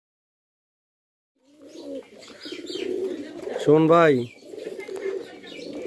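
Fancy racing pigeons coo from a loft, one clear rolling coo standing out over softer bird sounds, while someone speaks briefly nearby.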